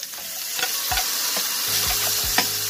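Deseeded tomato dropped into a hot pan for miso sinigang with lapu-lapu, loud sizzling frying hiss with repeated rhythmic scrapes and knocks of a spatula stirring, close and continuous.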